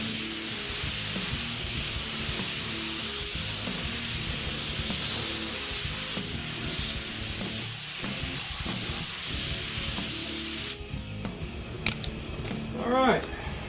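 Continuous close hiss of spray paint being applied to a wet-sanded seat back in red, steady and loud for about eleven seconds before stopping, followed by a few faint handling clicks and rustles.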